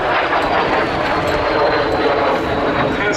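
A two-seat Mikoyan-Gurevich MiG-15UTI jet trainer flies past at an air festival at Duxford, giving a loud, steady broadband jet roar that holds constant and fills the air without a break.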